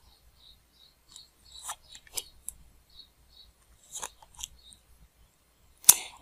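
Tarot cards shuffled and drawn during a reading, giving soft scattered rustles and flicks with quiet gaps between them and one sharp snap near the end, close and quiet, no talking.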